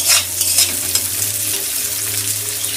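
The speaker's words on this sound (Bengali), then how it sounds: "পেঁয়াজটাকে প্রথমে ভালোভাবে ফ্রাই করে নেব।" Chopped onions and four slit green chilies frying in oil, a loud close sizzle with bursts of stirring at the start, settling into a steady hiss.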